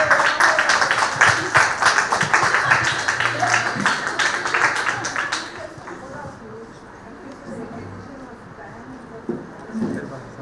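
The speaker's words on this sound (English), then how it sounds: "Give her a big round of applause." Audience applause at a stage show, loud dense clapping for about five seconds that then thins out and fades into quieter room noise and scattered murmurs.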